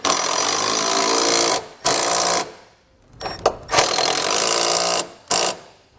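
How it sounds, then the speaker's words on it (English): Nylon locking nuts snugged with an 11 mm socket and wrench while fitting a side step to a 2020 Toyota Tacoma, loud close bursts of ratcheting and metallic turning separated by short pauses. "We can then go back and snug these up using an 11 millimeter socket and wrench."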